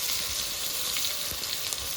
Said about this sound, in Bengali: নেড়ে চেড়ে টমেটোটা একটু হালকা ভেজে নেব